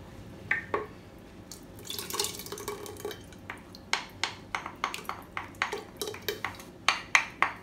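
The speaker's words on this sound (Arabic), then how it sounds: "فوالا نزيد الطماطم تاعي سائله" Liquid tomato pours into a cooking pot for chorba frik, starting as a splashy pour and giving way to a run of distinct close drips and small plops, with no voices.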